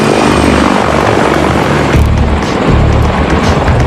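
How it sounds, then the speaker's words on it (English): A CH-53E heavy-lift helicopter with a 79-foot rotor flies past, its loud, steady broadband rotor and engine roar filling the air with a deep low-end throb throughout. "The technological wonder of the giant copter is its 79-foot diameter rotor assembly."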